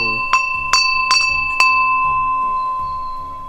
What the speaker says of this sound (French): Oh tiens, t'as une belle cloche ici.